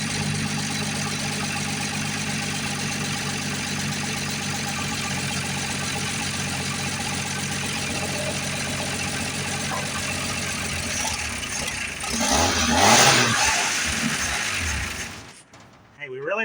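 A 1978 Dodge short box truck engine, revived after sitting abandoned for over 18 years and running without an accelerator pump, idles with a steady mechanical clatter, then revs up briefly before settling back, while voices talk nearby.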